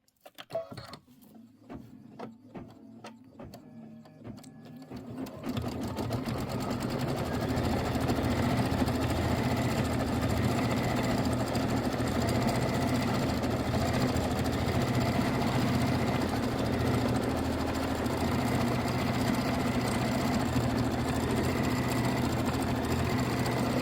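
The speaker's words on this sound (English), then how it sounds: "Now it's going to do the sage." A home embroidery sewing machine stitches a Christmas quilt block design in the hoop: a few soft clicks and thread handling sounds first, then a loud, steady, rapid mechanical stitching whir that runs continuously to the end.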